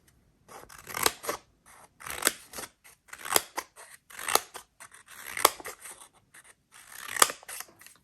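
Scissors snip through washi tape in a series of about eight crisp cuts, each a brief rasping slice with short pauses between them.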